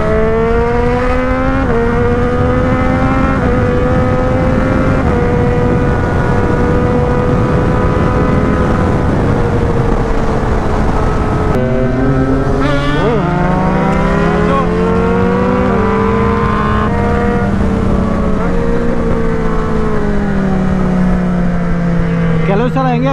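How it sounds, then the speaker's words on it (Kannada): Petrol vehicle engine revving hard as the throttle opens, a loud sustained drone with rising and falling pitch sweeps, close and continuous, with a voice talking over part of it. "ಥ್ರಾಟಲ್ ಓಪನ್ ಆಗುತ್ತಲ್ಲ ಆ ಸೌಂಡೇ ಮಜಾ"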